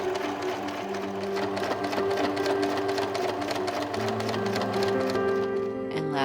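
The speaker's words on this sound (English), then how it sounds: "sew the waistband onto the skirt" A sewing machine stitching a waistband onto an 1890s-style walking skirt, running steadily and close with an even rapid mechanical rhythm, humming and clicking without pause.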